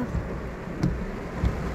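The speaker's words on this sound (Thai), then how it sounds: "ฝนตกแรงนะคะ" Heavy rain pours in a steady, dense hiss, broken by a couple of dull low thumps.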